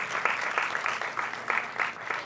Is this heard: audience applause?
yes